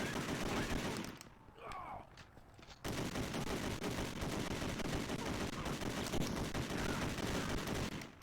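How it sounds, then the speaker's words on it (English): Rapid gunfire from a shootout with goons in the video game Driver '76, a dense continuous rattle of shots that breaks off briefly and then resumes just as loud and steady. "now we've got to shoot out with Jimmy's goons"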